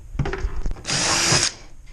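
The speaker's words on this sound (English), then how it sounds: "with the correct drill bit, drill through" A power drill with a fitted bit bores through boat seat hardware on a Wavesport XXX kayak, a loud half-second whirring burst after a few clicks and handling knocks, close up.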